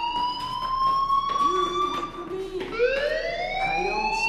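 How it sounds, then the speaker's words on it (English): A fire alarm in the Life Is Strange video game rings steadily as a loud electronic siren with rising and falling sweeping tones, heard alone and continuing throughout. "Hey, do you hear that fire alarm?"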